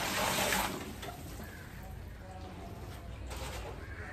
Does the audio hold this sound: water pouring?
yes